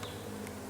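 Honeybees in an opened hive give off a brief, continuous low buzzing hum, close and steady, with no voices.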